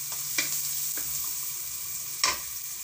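Ginger drops into a frying pan for ginataang kalabasa with sitaw and crab, setting off a soft, steady sizzle broken by a few quick scrapes of stirring.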